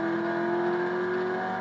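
Corvette Z06 engine pushed hard on a dockside half-mile straightaway while racing a Triumph Speed Triple motorcycle, a steady loud drone with a sustained tone and no clear rise or fall, close and continuous.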